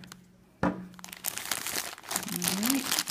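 Plastic packaging of a Disney vinyl figure from Series 2 is torn open with a sudden loud rip, followed by sustained crinkling and crunching while someone talks over it.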